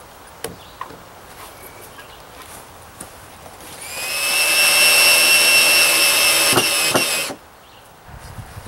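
A power driver sinks a screw into a 16-foot wooden deck ledger plank, with one sustained high whirring burst of about three seconds between scattered knocks and handling noises nearby.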